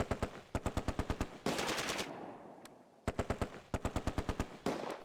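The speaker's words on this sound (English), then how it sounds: "Suddenly, firing from the dairy." In a Close Combat war game at Arnhem Bridge, a machine gun fires rapid rhythmic bursts of about eight rounds each, loud and close, separated by short pauses and a louder crackling burst, with no talk.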